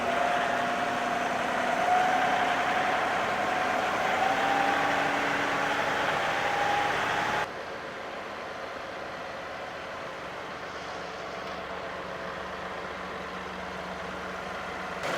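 A tractor engine runs steadily while attempting to lift a Rhino mower, a continuous mid-pitched drone that shifts to a quieter, lower idle about halfway through, with no talking.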